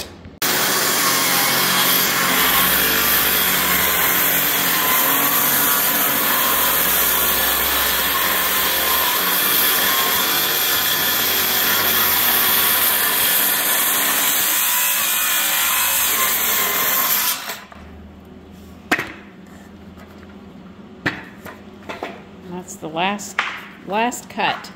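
Power saw fitted with a Diablo blade cutting through wooden trailer decking, a loud steady whine for about 17 seconds that then cuts off, leaving scattered knocks and handling sounds.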